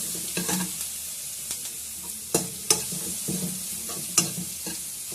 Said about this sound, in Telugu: కాస్త వేగనిద్దాం.